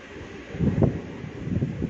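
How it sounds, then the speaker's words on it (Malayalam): Strong outdoor wind buffets the microphone in rising and falling low gusts, a rough rumbling roar that swells twice over a couple of seconds, with no clear speech. "കാറ്റുണ്ട് നല്ല"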